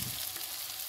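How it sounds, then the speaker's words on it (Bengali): Sesame fritters fry in a pan over low flame, a steady soft sizzle of oil running evenly through the brief moment with no voices. "হালকা টু লো ফ্লেমে রেখে ভেজেছি।"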